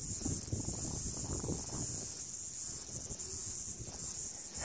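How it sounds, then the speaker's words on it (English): A dense, continuous high-pitched buzzing chorus of cicadas during an emergence in Utah, steady and loud throughout, with faint low rustling underneath and no voices. "we just happened into an emergence of cicadas"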